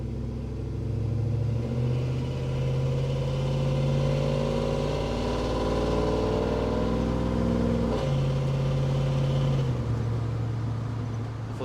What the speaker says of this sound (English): Hopefully you guys could hear the exhaust there.